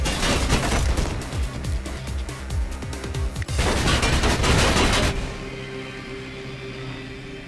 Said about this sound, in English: you can't just be standing there with that machine gun guy shooting at you